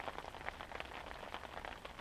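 Steady rain patters outside, a soft continuous hiss with scattered drops tapping on a surface, fairly faint and with no one talking.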